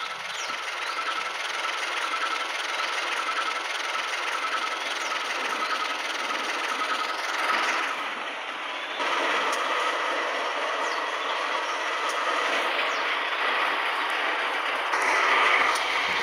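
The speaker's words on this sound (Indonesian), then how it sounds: "Kereta api lokal berhenti normal di stasiun Kedinding. Masuk di jalur 2, stasiun Kedinding." Local train hauled by locomotive CC2018331 in vintage PJKA livery pulling into Kedinding station on track 2, a steady broadband rumble and rolling noise of rail cars holding level throughout, with no voices.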